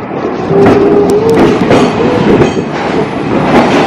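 A Vistadome tourist train at Guwahati railway station rumbles steadily on the rails at close range, with a rhythmic clatter and a faint metallic squeal running through it.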